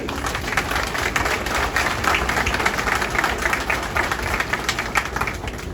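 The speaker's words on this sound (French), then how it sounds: "je vous demande d'applaudir chaudement la police nationale" An audience at a Haitian national police ceremony claps warmly: a dense, continuous burst of applause that stays loud and even from start to finish, with no talk over it.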